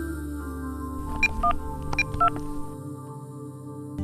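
A phone dials out with a short series of distinct electronic keypad beeps, a handful of tones spaced irregularly over a couple of seconds against a low room hum.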